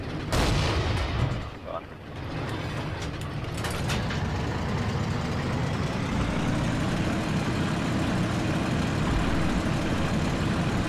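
A Matilda tank in Forgotten Hope 2 on Mount Olympus, with a sharp blast or gunshot at the start and a few more shots, then a loud, steady engine rumble and track noise that builds and drones on close by.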